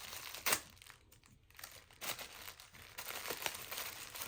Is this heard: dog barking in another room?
no